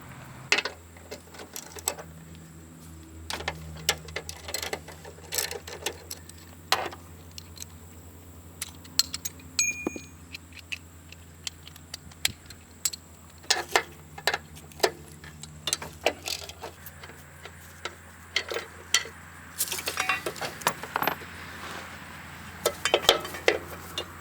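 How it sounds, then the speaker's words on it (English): Hand tools work on bolts of a Husqvarna mower deck spindle, giving a long run of scattered metallic clicks, ratcheting ticks and clanks at close range, irregular and fairly quiet throughout. "We can just go ahead and loosen up these bolts here, pop this thing out"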